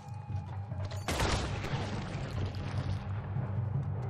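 A gunshot in Red Dead Redemption 2 cracks out suddenly and loudly, followed by a long rumbling, reverberant tail over steady background game ambience.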